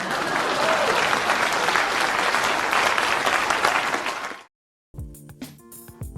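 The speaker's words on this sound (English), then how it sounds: "Please clap." Loud applause fills roughly four and a half seconds and then cuts off abruptly; after a brief silence, faint scattered clicks and tones follow.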